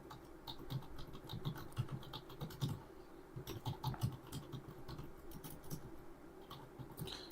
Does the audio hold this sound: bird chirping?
no